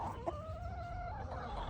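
A chicken clucks close by, a short drawn-out cluck with a brief sharper note, in a backyard chicken-keeping setting over low background noise.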